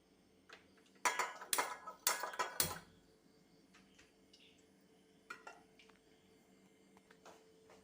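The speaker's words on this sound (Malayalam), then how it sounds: "ആദ്യമായിട്ട് നമുക്കൊരു പാൻ അടുപ്പിൽ വയ്ക്കാം" A metal pan set on a stove, a burst of loud clattering knocks and clanks early on, followed by a few softer scattered clinks in an otherwise quiet kitchen, with no talking.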